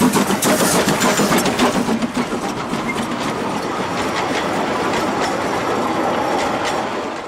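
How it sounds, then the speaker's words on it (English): Narrow-gauge steam locomotive Ferdinand on the Gulbene–Aluksne railway runs with a loud, steady rumble, rhythmic clatter and hissing throughout, with no voices. "the sight of a live steam locomotive is most exciting"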